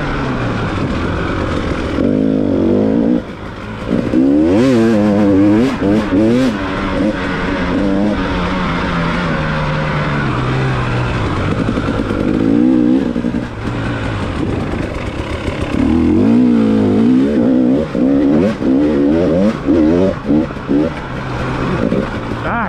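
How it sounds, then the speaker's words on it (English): KTM dirt bike engine on a trail ride over fast, flowing terrain, loud and close with rising and falling revs and shifting throttle, while a rider talks over it at times. "Bike is running really well."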